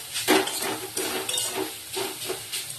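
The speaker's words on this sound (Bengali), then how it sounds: "এবার শাক ভাজা চাপিয়েছি" Leafy greens with green chilli, salt and sugar sizzle in a pan, soft hissing broken by several quick rhythmic stirring scrapes, close and moderately loud.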